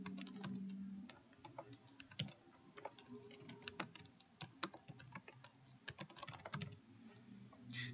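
Login credentials are typed on a computer keyboard while Windows 10 Technical Preview is set up in VMware. Quick, irregular key clicks come in bursts over several seconds, close but quiet, with a faint low hum under them.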